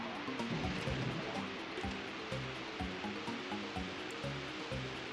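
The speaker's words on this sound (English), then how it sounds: "now empty water for Bear" Water splashing and gurgling as a bucket is emptied in the video game Banjo-Kazooie, heard as a run of soft sloshing pulses at moderate volume with no voices.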